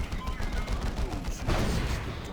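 Predator tank firing its heavy bolter in the Dawn of War 2: Retribution strategy game, a dense run of rapid gunfire bursts amid battlefield clatter, steady and fairly loud throughout.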